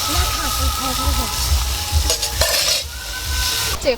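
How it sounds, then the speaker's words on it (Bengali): A spice paste with a splash of water is stirred and fried in a pan, sizzling under scraping and clinking of a spoon against metal, while a voice talks over it. "ভালো করে কষিয়ে জল দিয়ে ভালো করে মশলাটাকে কষিয়ে নেওয়া হচ্ছে"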